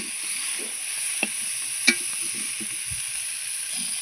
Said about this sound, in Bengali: আর দেখো যে সাইডে পুরো তেল ফুটে গেছে